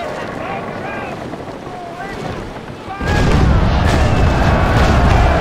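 Heavy booming wash with wind and sea noise aboard a sailing warship in Naval Action, cannon fire swelling into a loud sustained roar halfway through; voices murmur faintly.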